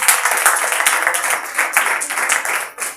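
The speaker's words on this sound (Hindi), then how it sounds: "आइए जोरदार तालियां बजाइए।" A church congregation claps loudly during a Hindi-Urdu sermon, a dense, steady wash of applause from many hands without a break.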